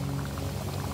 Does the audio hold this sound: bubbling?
yes